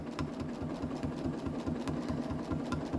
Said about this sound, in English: start out very slow and listen to your machine